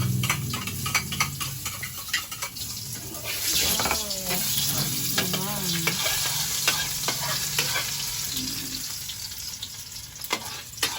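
Onions fry in a pan, cooked before adding beaten egg and century egg, giving a loud, close, continuous sizzle broken by frequent stirring scrapes and clinks.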